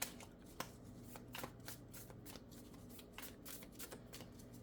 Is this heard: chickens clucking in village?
no